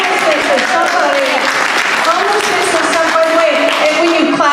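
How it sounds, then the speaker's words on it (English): Loud applause from the audience at a San Francisco mayoral candidate forum, a continuous dense wash of clapping with voices and cheers mixed in. "when you clap, as much as I love that you clap, I love it"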